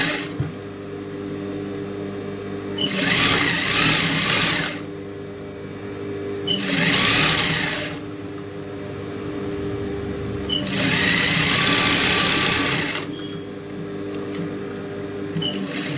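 Sewing machine stitching a hem folded about an inch on a child's silk skirt, running in three separate bursts of several seconds each, with quiet pauses between and a steady low hum beneath.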